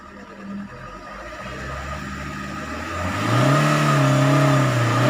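Maruti Swift engine revving as the accelerator is pressed during a fuel pump check, climbing from a steady idle to a louder, rising rev that swells and wavers in pitch, close up with no talk.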